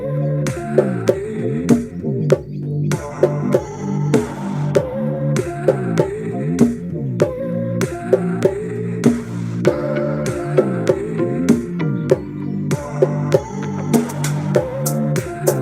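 Bongos played in a fast repeating pattern over a house music bassline, sharp bright slaps and tones landing on a steady four-on-the-floor pulse, close and loud throughout.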